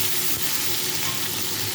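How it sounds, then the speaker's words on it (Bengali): Oil sizzles and spits steadily as chopped tomatoes fry in a pan, a continuous close crackling hiss with no talking. "টমেটোগুলো তেলের সাথে খুব ভালো করে ভেজে দেবো"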